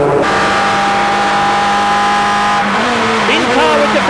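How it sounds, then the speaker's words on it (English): A 1992 British Formula 3 race car at full throttle from an onboard view, its steady high engine whine dropping as it brakes and downshifts into a second-gear chicane, loud and continuous under a commentator's voice. "In car with De Ferran, down to the 2nd gear chicane."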